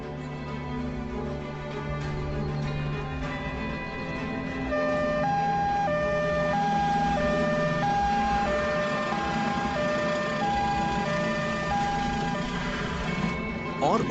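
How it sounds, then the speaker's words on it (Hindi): An ambulance siren wails in a loud, steady, repeating two-tone pattern that runs through the whole stretch, with road noise underneath and no talk. "एक एम्बुलेंस।"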